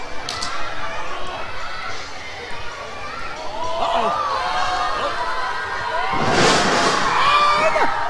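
Wrestling crowd at a Lucha Xtreme show at the Big Fresno Fair, a steady murmur of spectators swelling into louder cheering and shouts near the end, with an announcer talking over it.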